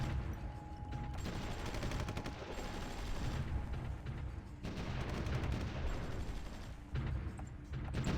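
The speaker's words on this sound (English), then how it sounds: "that's under artillery fire there" Artillery barrages and rapid gunfire from a war video game, a dense continuous roar of explosions and machine-gun bursts with brief dips, loud throughout with no voices.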